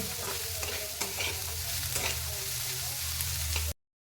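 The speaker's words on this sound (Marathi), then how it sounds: "हा लसूण या कांद्यामध्ये दोन मिनिट भाजून घ्यायचं आहे" Garlic frying with onions in a pan sizzles steadily at close range, with occasional spoon scrapes and taps, before the sound cuts off abruptly.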